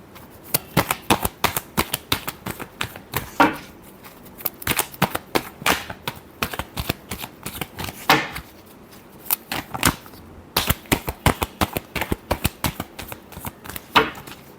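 Tarot cards being shuffled by hand in a quick, crisp riffling rhythm of sharp clacks and flutters, continuing with a brief pause before resuming, close and fairly loud with no talking.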